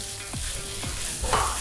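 Chicken tikka masala spices stir-fried dry in a hot pan, a soft steady sizzle with a few scraping stirs across the metal, close and moderately quiet with no talking.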